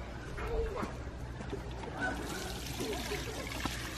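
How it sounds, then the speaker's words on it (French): Water is poured and trickles onto freshly transplanted tomato plants in a garden, a soft steady splashing under a man's speech. "je vais arroser mes tomates impérativement"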